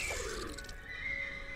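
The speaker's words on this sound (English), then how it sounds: "they whinnied tragically" Ice horses in the video game Starbound give a whinny: a brief, faint, shrill neigh at the start, then a thin tone and quiet game ambience, with no voices.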